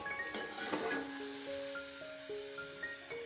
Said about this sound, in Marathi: ह्या पण मिरच्या आहे आपण तेलामध्ये छानपैकी तळून घेतलेला आहे